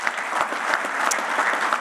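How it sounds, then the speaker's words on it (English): An audience at a commercial real estate forum applauds steadily, a brief burst of clapping from a crowd in a conference room. "We can give a round of applause."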